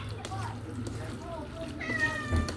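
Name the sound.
cat meowing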